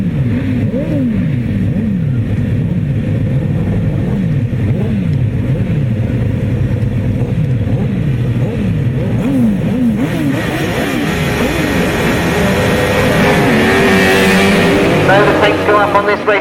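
Grasstrack racing motorcycles at the British Masters roar off the start, their engines revving loudly in rising and falling wails that build into a sustained, dense howl near the end.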